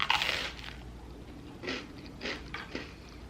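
Crunchy bites of buttered toast at breakfast, a few dry crackling crunches close to the microphone, separated by short pauses, with no talking.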